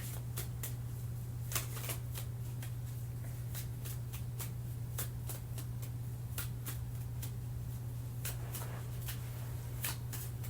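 Playing cards shuffled continuously, a rapid run of crisp riffling flicks and snaps close by, steady throughout over a low constant hum.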